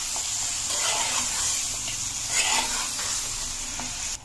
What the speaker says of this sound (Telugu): మటన్ ముక్కకు ఆయిల్ తగిలేలా కలుపుకోవాలి